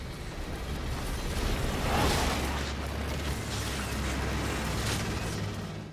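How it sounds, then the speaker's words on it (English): A deep, sustained roar of a giant nuclear explosion film sound effect, a broad rumbling blast that swells slightly and holds steady throughout. "and of course the giant nuclear explosion."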